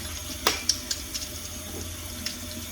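A garlic press is rinsed under a kitchen tap, with steady running water and a few light clinks and splashes as the metal tool is handled, no talk.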